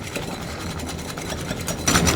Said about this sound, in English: I just want to get it a little bit thickened so that it'll rest in the creme brulee